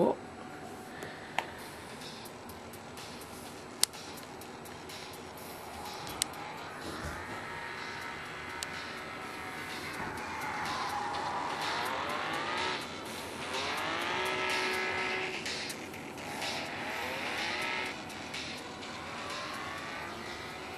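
A Ferrari racing video game playing on an iPhone, its engine revving and whining in rising and falling sweeps, faint and tinny, with a few clicks and voices nearby.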